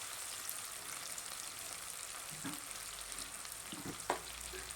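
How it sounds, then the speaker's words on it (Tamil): Potatoes fry in a pan with salt, a quiet, even sizzle that keeps going, with a few soft stirring scrapes near the end. "இதுக்கும் உப்பு போட்டு வதக்கணும்"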